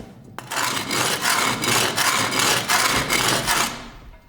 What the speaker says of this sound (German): Jonathan schleift nach dem Abkühlen die Sense nicht mit der Maschine, sondern von Hand mit Schleifsteinen